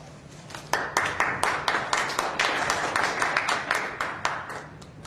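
A small lecture-hall audience claps after a scientific talk on the physics of cancer metastasis. Distinct individual hand claps ring out in a fairly steady, moderately loud patter, with no talk over it.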